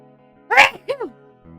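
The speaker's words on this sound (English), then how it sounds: "3 sneezes after your money spell" A person sneezes close by, two sharp bursts in quick succession, the first louder than the second, followed by quiet with faint background hum.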